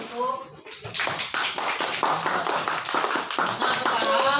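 A class of young schoolchildren claps hands together in a classroom, a dense, uneven patter of many small hands that builds and stays fairly loud throughout, with a voice briefly audible near the start.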